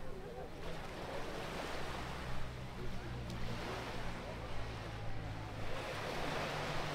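Calm sea at Patong Beach, Thailand, washes in as a continuous soft surf with gentle swells, mixed with wind noise on the microphone and a low rumble, close and steady throughout.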